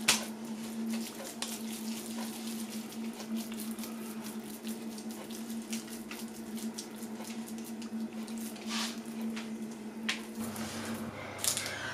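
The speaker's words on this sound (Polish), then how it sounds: "I tak kleimy wszystkie kotleciki." Wet hands, moistened with cold water, shape minced meat patties, giving soft squishing and slapping sounds at close range over a low steady hum, with no voices.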